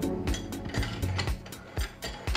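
Sharp metallic clicks and snaps ring out at a steady, uneven pace as the bolt spring is pressed in, lifted and pulled from a Cyma AKS74U airsoft rifle, close up with no talking.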